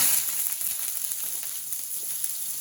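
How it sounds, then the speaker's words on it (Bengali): Eggplant frying in a pan for a sour curry, giving a steady, close sizzle with faint crackles and a light stirring texture, with no voices. "টকের তরকারি বেগুনটা দিয়ে দিলাম টমেটো একটু পরে দিব বেগুনটা আগে ভেজে নিয়ে তারপরে দিব টমেটো"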